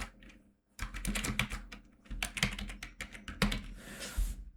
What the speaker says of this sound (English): And here I will be typing phrases, words that I am afraid, that I know you may not know.